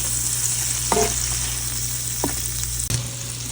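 Shrimp and bitter gourd frying in a pan with turmeric, a loud, even sizzle close by with a low hum beneath and a few brief scrape and clatter sounds from stirring.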